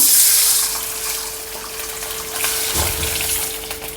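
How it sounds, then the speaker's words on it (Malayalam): Water runs steadily as it is poured into a pan with curry leaves, with a low hum underneath and a soft splash near the end. "വെള്ളം ഒഴിക്കാം കേട്ടോ"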